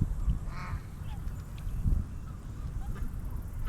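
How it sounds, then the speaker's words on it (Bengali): Black-necked, brown-bodied ducks or geese at Hafer Park in Edmond, Oklahoma give a few honks and quacks over a noisy outdoor background, moderately close, with faint voices nearby. "এখন যে হাঁসগুলো দেখতে পাচ্ছি এগুলো হচ্ছে ওদের গলাটা কালো"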